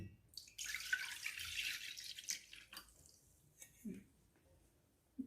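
Water and boiled milk, 200 ml of each, poured into a cooking pot, a steady splashing pour lasting a few seconds, followed by a couple of faint knocks.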